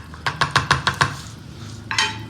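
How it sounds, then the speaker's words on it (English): Cooked brinjal pachadi is mashed in a pot, about six quick, evenly spaced knocks of a utensil against the pot, close and fairly loud, then a pause and one final scrape. "I'm just going to mash it up together."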